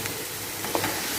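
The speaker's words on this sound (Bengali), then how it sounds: "এটা দিয়ে এবার এটা ভাজবো পেঁয়াজটা।" Sliced onions fry in oil with whole garam masala (cardamom, black cardamom, cinnamon, cloves, peppercorns), a soft steady sizzle with a couple of faint utensil taps, no voices.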